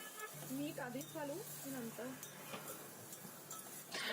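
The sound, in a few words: stirring flat beans in tempering in a pan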